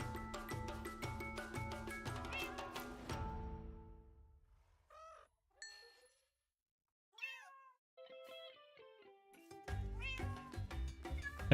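Cats in the Minecraft video game meow several times in a row, short rising and falling calls clustered in a quiet gap between bursts of background music, with no talking.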